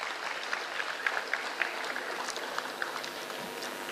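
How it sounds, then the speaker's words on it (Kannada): Graduation audience clapping at a college silver jubilee ceremony, a soft, distant wash of applause with scattered sharper claps, steady for a few seconds without speech. "ಒಂದು ಚಪ್ಪಾಳೆ ಹೊಡೀರಿ."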